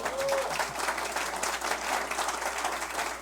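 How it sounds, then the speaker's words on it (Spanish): Audience applause for a magistrate at an amparo law diploma course session: steady, dense clapping from a room of people filling the whole stretch at even loudness. "den un aplauso al magistrado, ¿no? Por favor."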